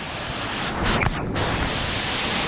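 A roadside waterfall on the road to Kazbegi, Georgia, roars as a dense, constant rush of water close by, with a brief wind buffet across the microphone partway through.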